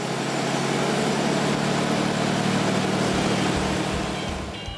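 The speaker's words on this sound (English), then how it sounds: "the engine looks good to go, so always fire her up just to make sure she sounds as good" A classic car engine rumbles steadily at idle, close by, a continuous low mechanical drone that eases off slightly at the end.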